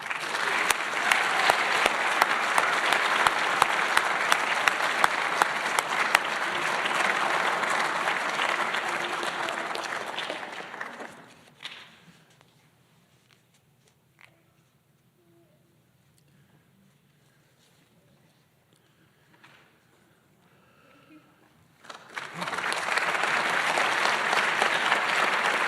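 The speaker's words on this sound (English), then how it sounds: "please join with me in applauding these 21 British Columbians" Audience applause at a community award ceremony: a long burst of loud, dense clapping from a large crowd, fading out into a quiet hall with faint rustles, then a second strong round of applause rising near the end.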